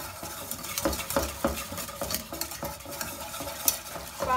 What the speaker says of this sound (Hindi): इसको हमने तेज तेज चलाते रहना है।